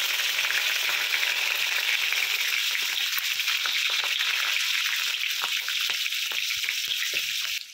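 Whole garam masala, bay leaf and slit green chillies sizzle steadily in hot oil, a loud continuous frying hiss with scattered crackles and pops throughout.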